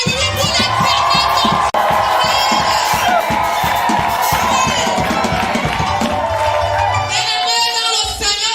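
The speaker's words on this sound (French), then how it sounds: "Si tu as été béni, pousse les cris de oui pour l'éternel." A church congregation shouts and cheers together in loud, sustained collective yells of affirmation, filling the room continuously before easing slightly near the end.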